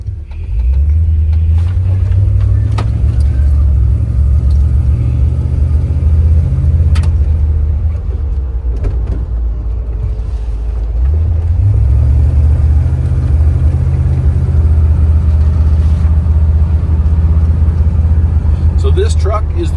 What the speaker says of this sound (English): today we're going for a drive in this unbelievable 1951 GMC